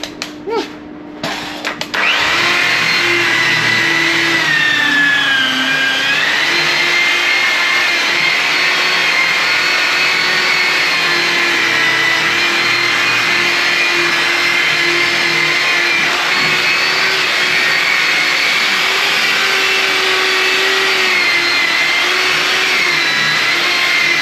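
Machine polisher with a coarse foam pad working over the paint of a color-changing Ford, giving a steady, loud whirring drone with slight pitch shifts as it moves across the panel, running continuously with no talk.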